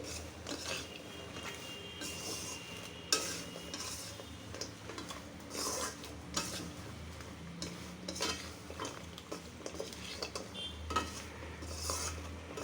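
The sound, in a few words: stirring pitha mixture cooking in sugar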